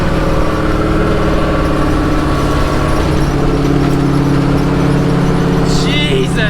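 An LS-swapped Datsun 260Z on its first drive gives a loud, steady V8 drone from inside the car, a low rumble with a constant engine tone and no clear shifts.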